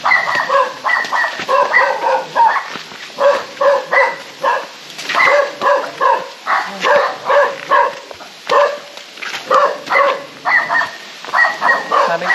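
Several dogs kept at a mountain home bark repeatedly in quick, rhythmic bursts, loud and close, with occasional yips and whimpers between the barks.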